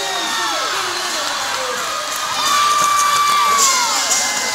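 A crowd cheering at a roller derby jam, loud sustained whooping and shouting voices in a large venue, swelling in intensity toward the end.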